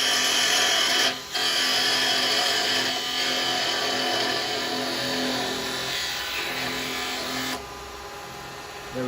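A woodturning lathe parts off a small wooden Christmas angel with a carbide chisel, a steady loud whirring scrape running almost unbroken for about nine seconds with one short dip early on and a slight drop near the end, no talk.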